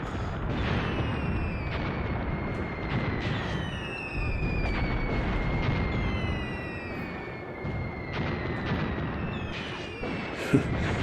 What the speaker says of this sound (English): it looks like we've got some artillery landing on the hill